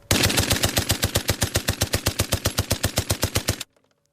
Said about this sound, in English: You lift the lever, press the firing button, and you count 1 banana, 2 banana, 3 banana, 4, which gives you a 4-second burst.